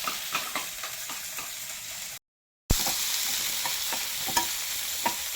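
Tomato and onion frying in hot oil, a loud continuous sizzle with bursts of stirring scrapes, broken by a brief full silence midway before the sizzling resumes just as strongly.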